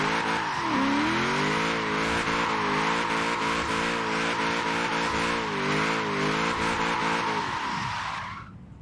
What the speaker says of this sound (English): there was a bit too much wheel spin, and I don't want it on limiter